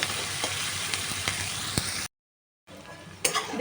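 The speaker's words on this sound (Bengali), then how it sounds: "আলু পেঁয়াজটা দিয়েছি, পরিমাণ মতো লবণ, হলুদ দিয়ে এটা পুরো ভাজা ভাজা করে উঠিয়ে রাখবো।" Potatoes and onions fry in oil with salt and turmeric, a steady close sizzle with a few stirring scrapes. It stops abruptly for half a second, then resumes.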